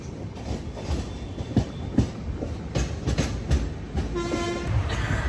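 The Howrah–Kanyakumari Superfast Express rolls into Eluru station with rhythmic clickety-clack of wheels over rail joints, irregular thumps and a rumbling ride, plus a short high squeal or tone near the end.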